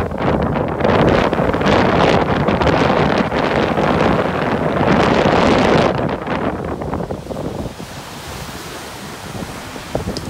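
Typhoon wind roars along the Japanese coast, a loud, continuous blast buffeting the microphone with crashing surf beneath, easing somewhat toward the end.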